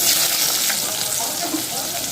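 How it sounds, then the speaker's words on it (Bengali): Bitter gourd frying in mustard oil with salt and turmeric, a dense continuous sizzle that fills the whole short stretch, close and fairly loud, with no speech. "প্রথমে উচ্ছেটা খুব ভালো মতো করে ভেজে নিচ্ছি, তারপর বাকি সবজিগুলো ভাজবো।"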